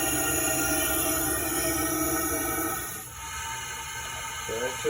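Steady air hiss from an open exhaust valve on a 1954 Riviera engine being turned by hand, a broad continuous rush that eases slightly partway through before a faint mechanical clunk near the end.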